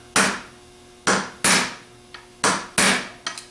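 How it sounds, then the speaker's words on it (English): A 6-inch, 1/4-inch drive steel extension is pounded down onto the Torx head of a Ford PMGR starter held in a vise, giving six hard, close metallic hammer blows at an uneven rhythm. "Then we're going to take a 6" by 1/4" extension and pound directly down"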